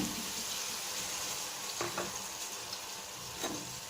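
Onions, ginger-garlic paste and spices sauté in a pan for chicken dum biryani, giving a faint, even sizzling hiss with a few brief stirring scrapes.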